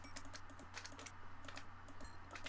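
Rapid, light clicking from a mouse or keyboard during a video game, a quiet run of uneven taps with short bursts and brief pauses, close and faint.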